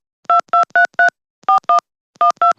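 A telephone keypad sends a loud, clean run of eight short dual-tone beeps, grouped as four, then two, then two, separated by silent gaps.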